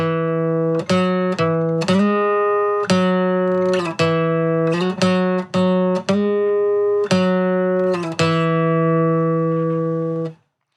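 A plucked guitar repeats a simple three-note phrase played without muting, each note ringing on and blending into the next, loud and close with no voices.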